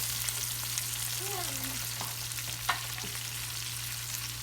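Seafood sears in a hot pan with a continuous, fairly quiet sizzle and crackle, a few faint utensil taps over a low steady hum.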